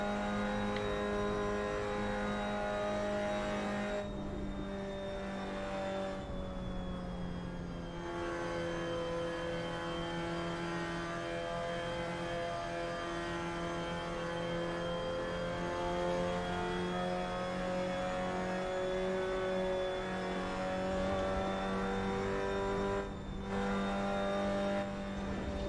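Mazda MX-5 engine in Assetto Corsa on the LA Canyons mod, a steady droning engine note with shifting pitch through corners, held continuously at moderate loudness with brief dips between gear changes.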